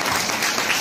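Audience applauds at an award ceremony in a school setting where a cheque and gifts are handed to honorees, the clapping forming a steady, moderately loud wash throughout the short moment.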